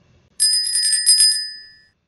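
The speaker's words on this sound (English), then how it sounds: "those bells are my alerts going off, so I got some alerts on TradingView" A TradingView alert bell rings once in a rapid metallic trill, loud and close, then rings out and fades over about a second with no talking.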